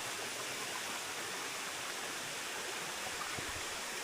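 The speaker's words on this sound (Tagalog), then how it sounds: "Kamantig Falls. Number 4." Kamantigue Falls, the fourth waterfall of Ambon-Ambon near Tagaytay, pours in a constant, even roar of rushing water that fills the whole stretch, with no pauses or voices.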